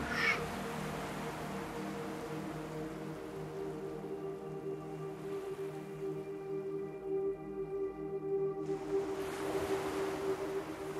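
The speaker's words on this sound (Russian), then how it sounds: "И шум каждой морской волны расслабляет вас все больше и больше." Steady wash of sea waves rolling onto a beach, a continuous soft surf texture with gentle swells, heard alone with no voices, under a faint sustained tonal drone.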